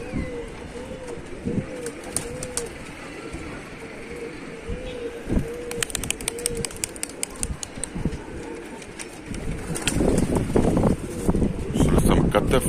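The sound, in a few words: pigeons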